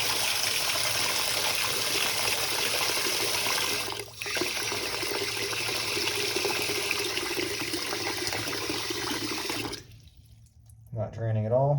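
A tap runs steadily into a blocked sink, a close, continuous rush of water that cuts off near the end, leaving a short spoken remark in the sudden quiet.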